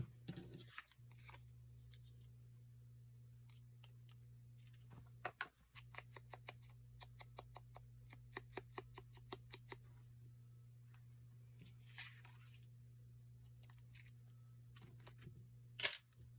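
Scissors snip through paper at a craft table, a quick run of crisp, evenly spaced cuts in the middle followed by a few scattered snips, faint and close over a steady low hum.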